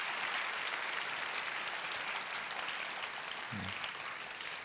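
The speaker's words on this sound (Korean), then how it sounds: "다시 한번 우리 목사님과 가정을 향해서 귀한 축복의 박수를 해주시기 바랍니다." Congregation applause during a Sunday evening church worship service, a dense sustained clapping from many hands that holds steady and loud for the whole stretch.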